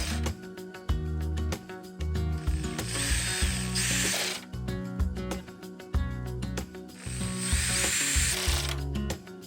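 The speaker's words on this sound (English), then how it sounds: "Insert the bolts that were previously removed in the 6 openings using the 10mm socket wrench." A 10mm socket wrench ratchets bolts into a Kia Soul third brake light assembly, fast clicking ratchet bursts in several runs with brief pauses between them, close and crisp with no talk.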